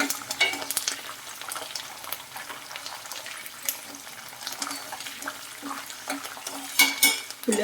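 Ingredients frying in a pan for dabbakaya pulihora, a tangy citrus rice dish, with a continuous close sizzle and intermittent crackles and stirring scrapes, no voices.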